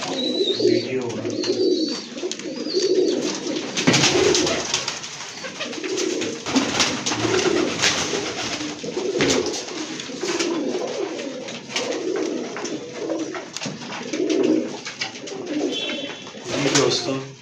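Pigeons, one with an eye infection, coo in a steady, repeating rhythm close by, with soft throaty calls layered over a constant background hiss and occasional faint chirps.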